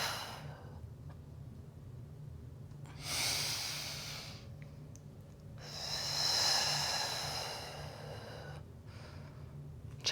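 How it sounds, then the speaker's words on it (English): Deep breathing during a home barre workout with a chair: two slow, soft airy breaths, each swelling and fading, with quiet gaps between them. "Take an inhale and exhale."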